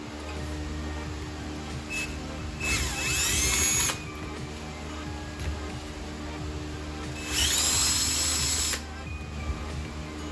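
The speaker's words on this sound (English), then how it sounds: "Let me get these drilled out quick." A power drill whirs in two short high-pitched bursts while drilling holes in an awning frame for rivet nuts, each lasting about a second, over a steady background hum with no talking.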